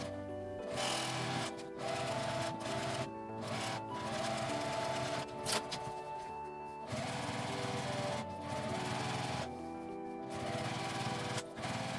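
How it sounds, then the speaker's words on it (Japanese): A sewing machine stitches a 1 cm seam on a lined drawstring bag, running in fast rattling bursts that stop and restart several times with brief pauses between, close and loud with no talk. "反対側も 合わせて1センチの縫い代で縫います。"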